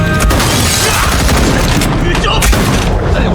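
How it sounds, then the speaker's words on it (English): Gunshots ring out in a tense TV drama scene set in Paris, with sharp booming cracks near the start and again midway over a dense, noisy background. "The soldiers outside heard the gunshot and rushed toward the sound."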